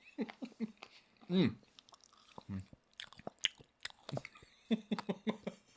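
Close-up munching of chocolate Rice Krispie treats with sprinkles, with crisp crunchy bites and wet chewing sounds in uneven bursts, near and fairly quiet.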